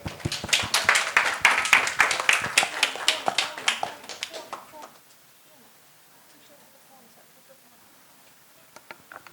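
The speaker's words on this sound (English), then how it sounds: "please give a round of applause for all of them" Applause from a conference audience for the panel at an education fireside chat: a short burst of clapping about five seconds long fades to near silence, and a few stray claps follow.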